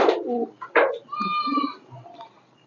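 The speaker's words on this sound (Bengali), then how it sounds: "এই যে আমার শাটিন জোড়া, আমার খুব পছন্দের পায়রা।" A pair of satin pigeons being fed, giving a few close, soft coos and throaty calls in short bursts over a quiet background.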